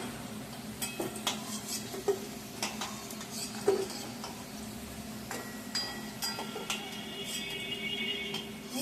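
Fried potatoes are lifted out of hot oil into a bowl. A quiet, steady sizzle runs underneath, and irregular metallic scrapes and clinks of a spoon against the pan and the bowl come through on top.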